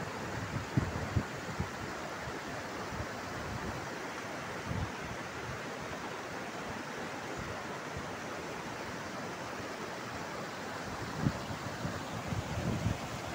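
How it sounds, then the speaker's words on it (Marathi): A monsoon-swollen waterfall near Kaneri Math in Kolhapur, fed by an overflowing lake, roars as a steady broadband rush with no breaks, heard from a distance with light wind buffeting. "पाण्याच्या धबधब्याचा आवाजसुद्धा दुर्गतपणे आपल्याला येत आहे"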